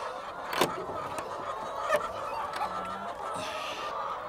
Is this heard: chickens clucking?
yes